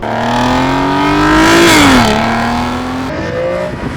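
A 2005 Aston Martin DB9's V12 engine revs up smoothly to a high howl, drops back, then settles at a steady rumble, loud and close throughout.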